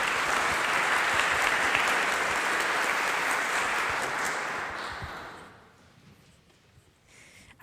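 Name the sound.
audience applause welcoming a speaker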